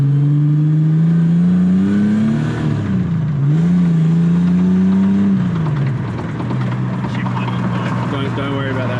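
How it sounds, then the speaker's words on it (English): A Ford AU Falcon driving on a delaminated tyre, a loud droning engine note rising and falling with a rhythmic rubbing whir from the damaged tyre, heard close up throughout. "Don't worry about that sound. The tyre delaminated."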